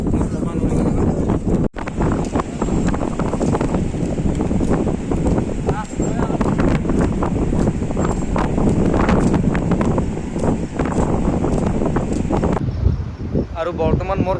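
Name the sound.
strong wind at Digha beach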